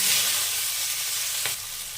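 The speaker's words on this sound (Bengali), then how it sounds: "এর মধ্যে দিয়ে দেবো পেঁয়াজ কুচি" Chopped onion drops into hot oil with whole cumin, a strong, close sizzle that rises briefly with a sharp crackle near the middle before settling into steady frying.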